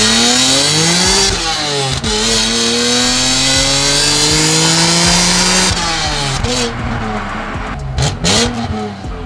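A manual BMW E46 M3 engine revs hard through several rising gear pulls out of a bend, with brief drops between shifts and a growling exhaust note up close.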